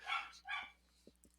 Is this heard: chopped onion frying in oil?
no